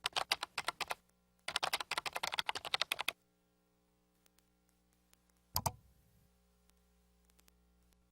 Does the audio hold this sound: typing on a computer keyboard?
yes